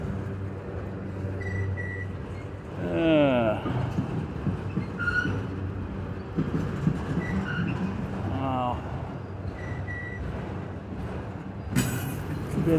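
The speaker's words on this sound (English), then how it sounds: "That's the end of the train." A train passes by, its low rumble and rattle running steadily through the scene under frequent nearby talk, with a short bright screech near the end.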